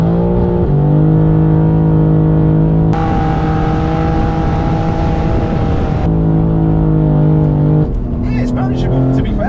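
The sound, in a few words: BMW G80 M3 accelerating in second gear on roller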